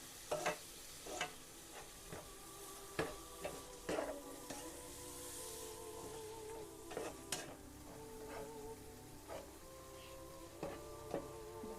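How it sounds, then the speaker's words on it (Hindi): Turmeric frying with spices in a pan, a quiet sizzle under repeated light spoon taps and scrapes against the metal, some ringing briefly, with no voices. "हल्दी को भी हम अच्छे से फ्राई कर लेंगे सारी चीज़ों के साथ।"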